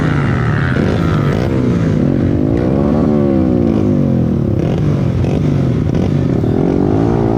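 Standard motorcycle engine straining up a long, slippery hill during a trail-riding event in Sapuran, Wonosobo, a loud, close, laboring drone that rises and falls in pitch as the rider works the throttle in low gear.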